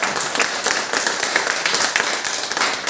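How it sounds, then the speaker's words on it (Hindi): An audience at a hotel event applauds for Rakib sir with dense, rapid clapping that carries on steadily and fairly close, with no talk over it. "एक बार ताली बजाइए रकीब सर के लिए"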